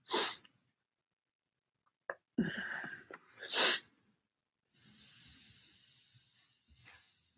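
A single person sneezes close up, a sharp gasping intake followed by a loud burst. Quieter breathy noise and faint sounds come before and after it.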